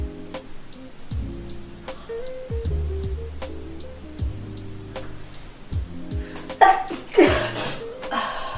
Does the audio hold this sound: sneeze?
yes